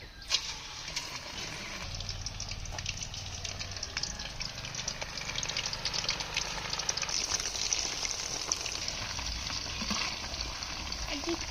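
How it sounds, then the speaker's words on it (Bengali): Chicken pakoras fry in hot oil in a home kitchen with a steady, dense sizzle and crackle throughout. A low hum sits underneath, and faint stirring bubbles pass briefly. "তারপরে পাকড়গুলো ভাজতে নেব"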